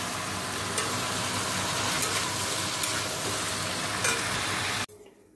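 Tomato and dried red chilli hiss and sizzle loudly in hot oil with five-spice seeds, a dense steady frying crackle dotted with faint clinks, cutting off abruptly near the end.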